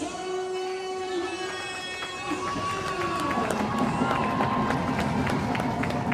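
Big home crowd cheering at a Solway Sharks ice hockey game, a continuous broad roar with whistles and tonal rink sounds layered over it, steady and loud throughout.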